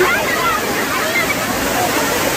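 A waterfall roars in a steady, dense, full-band rush of falling water with no break, loud and close throughout.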